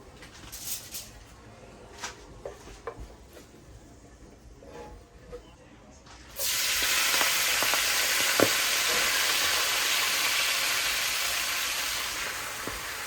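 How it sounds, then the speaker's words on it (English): A few soft clinks, then a sudden loud sizzle as wet greens hit hot bacon grease, frying steadily and strongly to the end. "That got that extra sizzle sound because it's mixing with the grease from the bacon."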